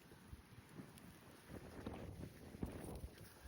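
Wind buffets a microphone out in an open field during metal detecting, a faint rumbling gusty noise with no talk.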